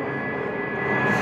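A track jet dryer at Las Vegas Motor Speedway before a NASCAR Truck Series race: a steady, high-pitched turbine roar, a constant whine over broadband rumble that swells slightly toward the end.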